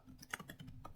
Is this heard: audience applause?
no